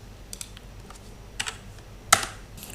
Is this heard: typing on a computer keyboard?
yes